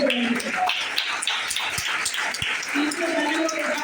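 An audience at a business plan seminar in Dombivali, Mumbai breaks into a burst of clapping, a dense patter of many hands heard under a voice speaking over it.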